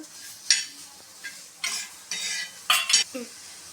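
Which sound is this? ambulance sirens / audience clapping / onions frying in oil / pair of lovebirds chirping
onions frying in oil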